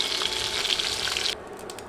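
Fish pieces fry in hot oil with a bright, steady sizzle that stops abruptly partway through, leaving only a faint hiss; close, no talking.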